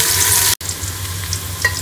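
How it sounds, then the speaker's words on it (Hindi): Two onions fry in a pan toward golden brown for a beef yakhni pulao, giving a steady loud sizzle with a brief stirring break partway through and no talking. "ये 2 अदद प्याज हैं, इसको हम गोल्डन होने तक फ्राई कर लेंगे।"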